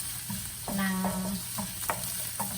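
Ginger root sautés in a pan, a close frying sizzle broken by several distinct spatula scrapes and stirs, with no voices.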